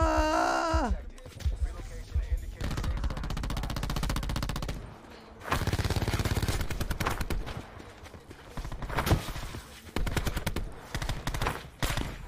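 Call of Duty Black Ops 4 gunfire, with loud, close rapid automatic bursts in several stretches separated by short pauses, plus a brief tonal game sound at the start and talk under the shots.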